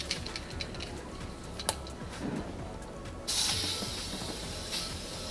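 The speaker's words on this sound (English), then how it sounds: "So I'm just gonna spray some of that down below and I'm gonna scrub it." Grime Fighter cleaner is sprayed in the cabinet under a kitchen sink, a sudden close hiss that starts partway through and holds for a couple of seconds over faint room noise.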